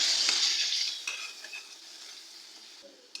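Spiced masala sizzling in a pan right after a splash of water is added, a loud hissing burst that fades over a few seconds, with light clinks of a spoon against the pan.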